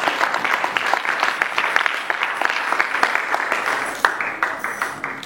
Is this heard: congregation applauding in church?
yes